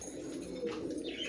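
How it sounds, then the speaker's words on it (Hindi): A sick, listless golden pigeon gives soft, low cooing close by, quiet and continuous over a faint background hiss. "ये कबूतर दोस्तों मुझे दिखा है"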